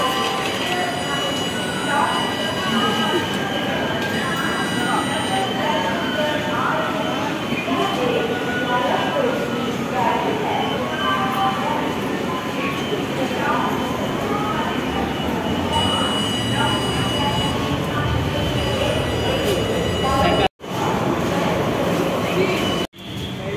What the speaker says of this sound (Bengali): দমদমে নামলাম ট্রেন থেকে,